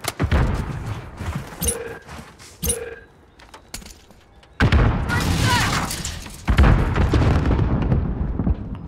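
Bursts of gunfire and explosive booms from the video game Call of Duty Modern Warfare, with separate sharp shots early, then a loud sustained barrage in the second half, close and heavy, with some faint voice.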